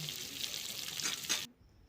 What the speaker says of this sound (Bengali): পটলগুলো কড়াইতে দেওয়ার পরেই আমি একটা খুন্তি দিয়ে হালকা করে আমি নাড়তে থাকবো